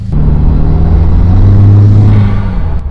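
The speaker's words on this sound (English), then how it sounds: "Dang, the intake is so much louder now. That's way louder. That actually sounds really nice." A Subaru WRX fitted with an AWE track exhaust and ETS intake accelerates close by, giving a loud, steady, deep engine roar that swells slightly midway through and carries throughout without any talk.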